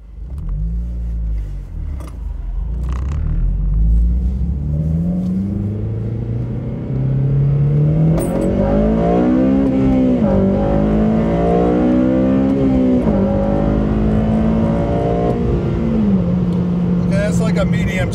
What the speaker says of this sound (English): that's like a medium speed shifting, not a crazy mad skill shift